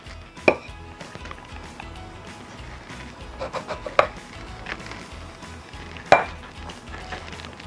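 Yeast-free pişi dough for fried breakfast bread being cut into shapes on a board, a few sharp taps and knocks among soft scraping and rubbing, close up with no talk.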